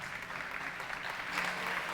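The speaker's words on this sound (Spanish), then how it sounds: "Démosle un fuerte aplauso a Hernán" Brief, steady applause from an audience, a soft continuous patter of many hands clapping.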